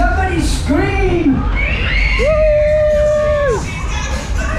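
Riders on a spinning fairground ride at The Hoppings fair scream, whoop and cheer loudly together, rising and falling yells over a dense crowd roar.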